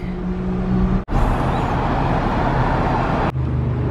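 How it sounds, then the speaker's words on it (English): Steady broadband road traffic noise heard from inside a moving car in Honolulu, a continuous engine and tire rumble with a brief dropout near the start and a shift in tone toward the end. "Traffic, lots of traffic."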